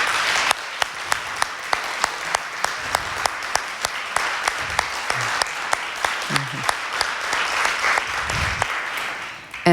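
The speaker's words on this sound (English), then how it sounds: "Dr. Sherritt, could you guys all stand up for a round of applause" Audience at a panel discussion applauding, a sustained round of clapping from a crowd in a hall, fairly close and even throughout, with a few voices murmuring underneath.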